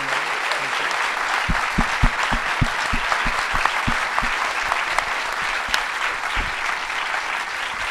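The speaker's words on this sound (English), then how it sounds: "A round of applause for that amazing." Steady, full-room applause from an audience at an art museum talk continues throughout, with a few sharper nearby claps standing out against the dense clapping.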